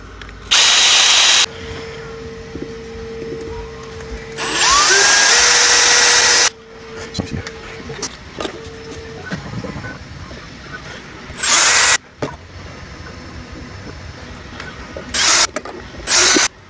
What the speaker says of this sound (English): Now you have your holes drilled out, ready for an install.